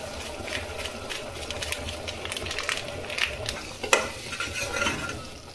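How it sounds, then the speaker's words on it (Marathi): Spinach fries in oil seasoned with garam masala, giving a steady low crackle broken by soft clinks and scrapes of stirring, with one sharper knock near the end. "घेतलेली पालक टाकायचं आणि तेलात थोडं फ्राय होऊ द्यायचं।"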